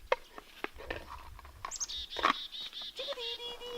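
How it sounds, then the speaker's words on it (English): Small birds outdoors on a farm give several faint, short chirps and calls scattered irregularly across the clip, with brief higher whistled notes among soft background rustling. "Chickadee-dee-dee. Do you hear that?"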